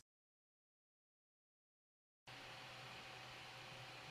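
A 3D printer runs in a quiet room. About two seconds of silence give way to a steady broadband hum with a faint whine, constant and moderately close, with no talking.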